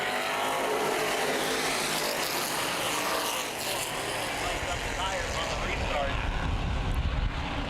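Race cars at full throttle around the oval at Baer Field Speedway during a CRA Super Series asphalt race, a steady loud engine roar throughout, swelling as cars pass close, with a commentator talking over it.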